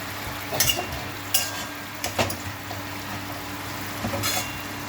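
Koi fish frying in spiced oil in a pan as the pieces are turned over, a steady close sizzle broken by several sharp scraping and clinking bursts from the utensil.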